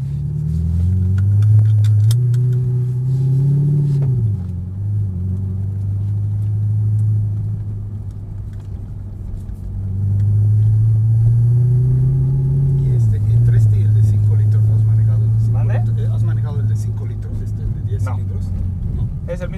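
A Lamborghini Gallardo–engined exotic sports car drives on, a loud, steady low engine drone swelling and easing in waves, with people talking over it throughout.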